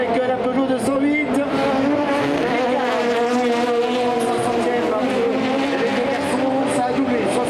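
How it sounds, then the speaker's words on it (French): Touring cars, including a Peugeot 208, racing on a circuit: a steady, loud engine drone with shifting pitch, occasional tire squeal and passing cars, all under continuous commentary. "les attaques de Laurent Martin, le pilote lyonnais avec la Peugeot 208."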